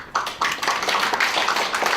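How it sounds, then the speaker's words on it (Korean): Audience applause greeting a guest at a civic life-respect declaration ceremony, a dense, steady patter of many hands clapping close by that continues throughout. "박수로 맞이해 주십시오"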